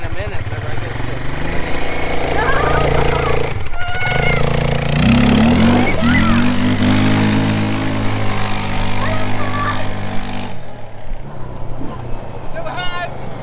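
A TGB 520 Blade quad bike is driven nearby, its engine droning steadily and shifting pitch as it revs. Excited voices talk and shout over it throughout, and the engine sound drops away near the end.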